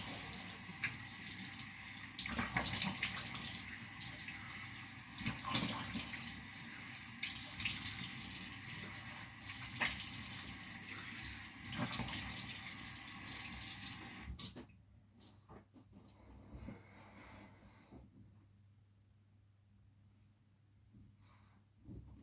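Tap water runs steadily into a sink during an evening skincare wash, a broad continuous splash for about fourteen seconds that then shuts off, leaving quieter room sound with soft breathing.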